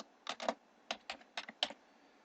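Someone types a password on a computer keyboard, a quiet series of about eight crisp key clicks in short irregular bursts against a near-silent room.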